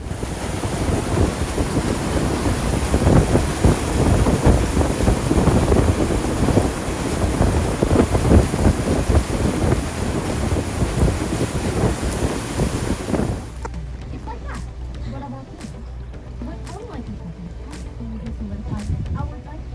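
Boat sailing through a vast volcanic caldera, with steady wind buffeting the microphone and waves washing against the hull, loud and continuous, then easing into a quieter, calmer stretch near the end.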